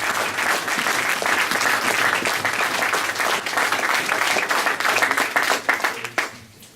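A church congregation applauds for the Lord with steady, dense clapping that stays loud and even, then fades away at the end.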